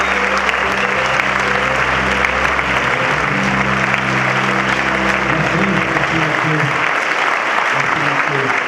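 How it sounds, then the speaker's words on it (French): A large festival closing-ceremony audience claps steadily and continuously, a dense wash of applause that holds at full volume throughout. "Applaudissements s'il vous plaît."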